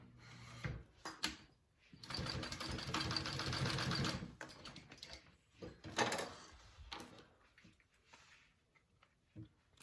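A sewing machine bastes fabric for a bowler bag, its needle whirring in a steady run of several seconds between short stitching bursts and pauses, with a voice talking quietly in between.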